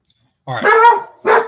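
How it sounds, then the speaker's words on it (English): Dogs bark downstairs, two loud close barks heard under a brief spoken remark. "So you can hear my dogs barking."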